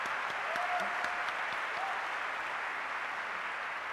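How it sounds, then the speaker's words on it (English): Audience applause for the orchestra at the Nintendo E3 2011 press conference, a steady, dense wash of clapping that fills the room from start to finish without pause. "let's give a big round of applause for our orchestra today"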